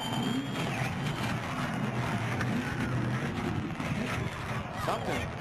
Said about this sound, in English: You heard all that rattling going on? I think those were parts.